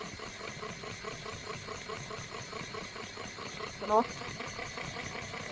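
A Caydo electric yarn winder runs with a steady mechanical whir and hum, a brief louder knock near the end, as a person speaks over it.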